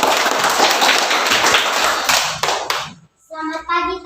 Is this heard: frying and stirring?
no